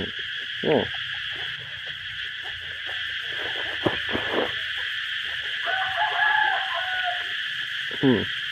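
Cicadas drone in a loud, unbroken buzz throughout, while rooster-like calls and other birds break in briefly over the top.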